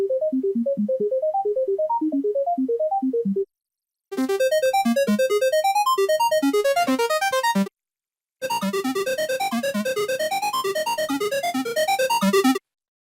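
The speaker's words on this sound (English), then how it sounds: "I've spent some time with Helm and created a squarish arpeggiator that's got all sorts of little kind of cool flares added onto it" Square-wave synth arpeggio built in the Helm plugin, with delay, feedback and formant flourishes: three bursts of rapid, bright stepping notes, the first thinner and lower, the later ones dense and buzzy, separated by short silences.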